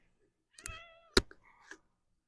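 A pet cat meows close into a microphone, a drawn-out tonal meow followed by a sharp click and a shorter trailing mew, all in an otherwise quiet room.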